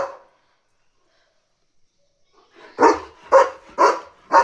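Leo, a German Shepherd dog, lets out four loud, evenly spaced barks in quick succession after a quiet stretch, close to the listener.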